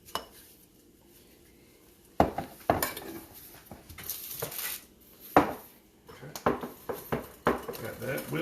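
Honey butter gets whipped in a bowl in a home kitchen, with intermittent clinks and scraping taps of a utensil against the dish while people talk nearby.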